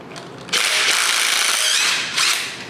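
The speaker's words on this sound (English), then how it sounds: "we can remove the bracket bolts" A power tool works the AC compressor bracket bolts on a Ford 302 small block engine: one loud, close whirring burst that holds for about two seconds, then dips and briefly surges again.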